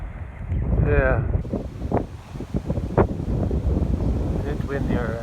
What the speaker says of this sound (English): it's windy, alright.